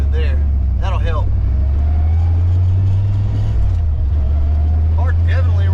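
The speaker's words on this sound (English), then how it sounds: "So much smoother now with the new plugs in it." A smooth, steady idle from an old car's engine freshly fitted with new spark plugs, a loud, even low drone close to the microphone, while someone talks over it.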